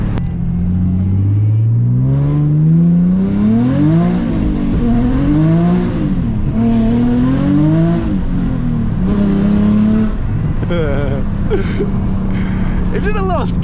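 A Nissan 350Z drifting on a wet road, its engine revving hard in rising and falling sweeps with whining harmonics close and loud throughout, a voice briefly audible near the end.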